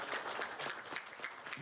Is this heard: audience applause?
yes